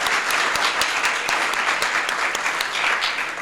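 Audience applause at a city's State of the City address, steady dense clapping from a large crowd filling the hall throughout, with no talking over it.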